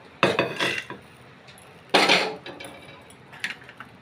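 Sunflower seeds poured into a container: two bursts of rattling, clattering patter, each under a second, with fainter clinks between them, close up and without talk.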